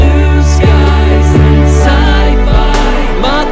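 Prog rock chorus playback from a home studio: dense, loud full-band mix with sustained chords and heavy rhythmic hits punctuating it, continuous throughout with no talking.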